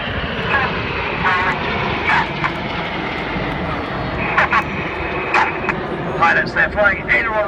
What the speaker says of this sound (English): they're flying aileron rolls to roll the aircraft rapidly around its longitudinal axis